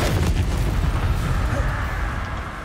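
Continuous booming blasts from Confringo and Bombarda spells in Hogwarts Legacy fill the space, loud and rumbling with dense low-end crackle throughout.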